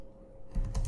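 Commands are typed on a computer keyboard, a short run of close, quick key clicks that starts after a moment of near silence.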